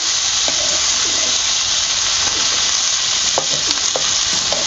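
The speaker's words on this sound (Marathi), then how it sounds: "ह्या मिरच्या पण त्यातच टाकते बघा हे लसूण खमंग भाजून घ्यायच्या" Green chilies and garlic roast in a pan for a rustic ridge gourd chutney, giving a continuous dense sizzle with a few faint clinks of stirring.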